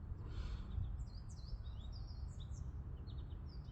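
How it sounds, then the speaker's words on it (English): Birds chirp and warble in quick, high bursts over a low outdoor rumble in a natural setting, faint and somewhat distant, with no talking. "I love hearing the birds."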